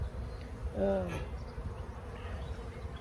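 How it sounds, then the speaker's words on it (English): Honey bees buzz around the entrance of a hive during the first check of the season, a steady insect drone with one louder pass close by, over a faint murmur of outdoor noise. "got a lot of bees flying around because they're wanting to go into their hole"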